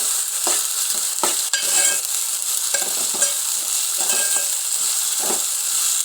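Mutton curry sizzles and fries steadily in a pan with garlic paste and large onions, a continuous bright hiss broken by repeated scraping strokes of a spoon stirring through it.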